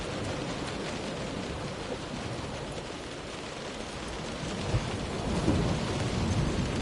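Steady, dense rain pours continuously with a low rolling thunder rumble swelling near the end, an unbroken stormy wash with no voices, in the video game Close To The Sun.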